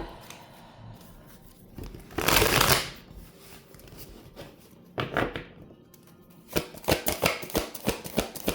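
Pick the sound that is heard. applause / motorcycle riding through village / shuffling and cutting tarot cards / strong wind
shuffling and cutting tarot cards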